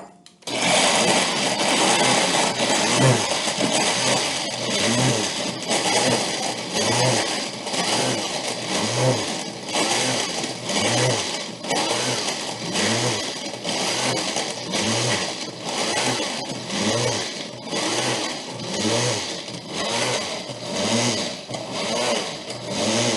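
A blender grinds pie-crust crumbs for a key lime pie, running loud and steady throughout with a rhythmic pulsing churn as the crumbs tumble against the blades.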